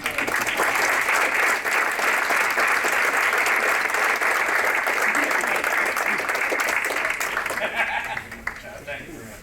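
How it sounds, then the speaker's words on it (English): Sustained audience applause for a speaker at a gathering, loud and dense clapping that holds steady for several seconds before thinning out at the end. "can we have another round of applause here, Gary?"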